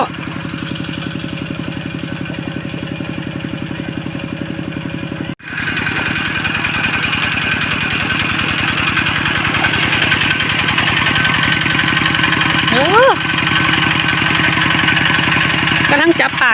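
A walking tractor's small engine chugs steadily throughout with a regular putter while ploughing a field, briefly cutting out then resuming louder, with faint talk in the background.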